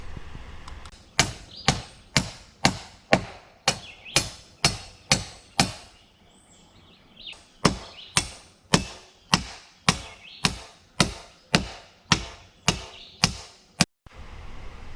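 A hammer drives 1.5-inch galvanized nails into metal joist hangers on a lake cabin floor frame, a quick run of sharp, evenly spaced strikes, a short pause, then a second steady series, loud and close with no voices.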